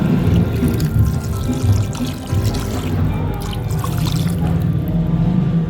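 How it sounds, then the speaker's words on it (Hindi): About half a litre of water pours into a beef kadahi cooking in the pot. The sound is a steady, continuous splashing gush lasting several seconds, with no talking. "तो अब हम इसमें डाल देंगे तकरीबन आधा लीटर पानी का"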